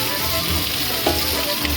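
Three garlic cloves and onions frying together in a pan for a beef stifado, a dense, even sizzle heard close up with a faint stir partway through.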